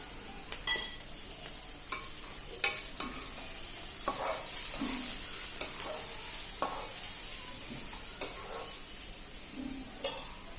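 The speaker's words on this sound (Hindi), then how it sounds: "अब मैं मिर्ची के ऊपर थोड़ी सी हींग डाल दूंगी।" Chillies fry in hot oil for a tempering as a pinch of asafoetida goes in, giving a steady soft sizzle under scattered stirring clicks and light pan taps, close and moderately quiet.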